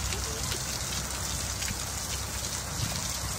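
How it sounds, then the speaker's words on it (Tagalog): Heavy rain pours down outdoors in Nevada, a dense, unbroken hiss of drops striking surfaces, steady and enveloping with no voices. "Ang saya-saya, ang ulan."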